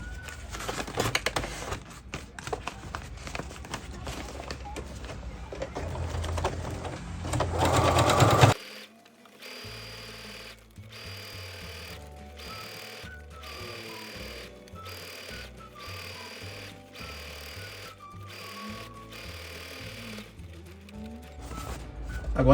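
A domestic sewing machine stitches a zigzag seam on fabric for a men's African eketé (filá) cap, its motor whirring in bursts: loud continuous running at first, then shorter stop-start runs with pauses between them.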